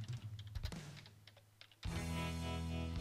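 Several quick keystrokes tap on a computer keyboard as a keyword goes into a search box, followed by a sudden steady hum that drowns out the quiet room.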